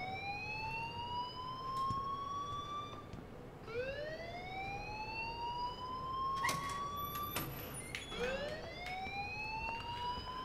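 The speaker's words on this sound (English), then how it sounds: "please turn off that alarm since that's your job" In the video game Life is Strange, a school alarm sounds as a repeating rising electronic wail, about three sweeping cycles at moderate loudness over a steady background hiss.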